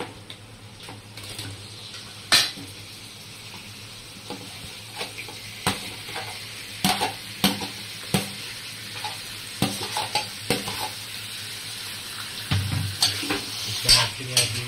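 Green chillies frying in oil in a pan for a swamp eel gravy, a continuous sizzle with repeated sharp scrapes and knocks of a spatula stirring against the metal, close up and with no talk.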